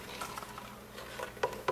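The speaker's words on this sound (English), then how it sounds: "Just want to keep stirring all this stuff to make sure nothing's going to settle out on you." A spoon stirs a homemade buck jam mixture in a pot, soft scraping swirls with two sharper clinks near the end, fairly quiet and close with no voices.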